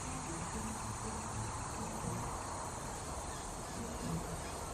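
Cicadas drone in a steady, dense buzz that fills the air without pause, faint and distant, in the trees of a koala sanctuary.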